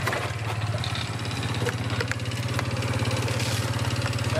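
A 180 cc scooter engine idles close by with a steady, rapid low putter, occasional clicks and knocks over the running motor.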